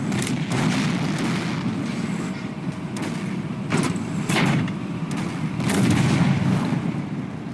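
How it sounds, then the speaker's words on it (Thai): Missiles strike from the sky in a tank video game, heard as repeated heavy booms and blasts over a constant rumbling battle din, with several sharp impacts spread across the scene. "ถ้ามีวงสีแดงนี่คือ ศัตรูจะยิงมิสไซล์จากท้องฟ้าครับ ต้องคอยหลบ"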